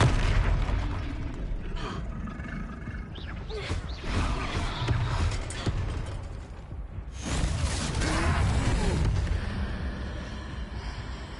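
Heavy booming blasts and bursts from Confringo fire spells in Hogwarts Legacy during a troll fight, dense and loud with rushing whooshes, some game speech faintly beneath.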